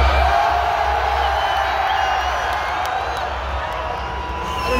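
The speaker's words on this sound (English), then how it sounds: "I want you all to take a second and make a lot of noise for all of our friends." A large arena crowd at a concert in Ireland roars, cheers and whoops continuously, a dense, loud wall of voices that holds steady for the whole stretch with no single voice standing out.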